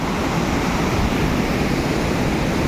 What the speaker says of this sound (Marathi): छान आणि सुंदर असा धबधबा आहे